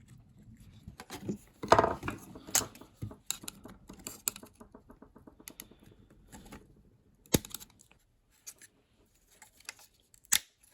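A green circuit board is pushed back into its slot in a Bosch condenser tumble dryer that has lost power, a series of faint plastic clicks, taps and scrapes with short gaps between them and no talking.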